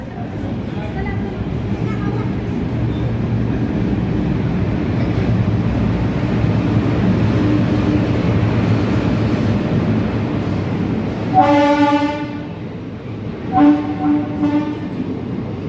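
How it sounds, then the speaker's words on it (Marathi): The Nagarsol–Narsapur superfast express rolling into platform 2 at Chhatrapati Sambhajinagar, a loud steady rumble of wheels and carriages, then two sharp horn blasts near the end, with people talking. "आता आपली नरसापूर एक्सप्रेस प्लॅटफॉर्म नंबर 2 वरती येत आहे छत्रपती संभाजीनगर येथे"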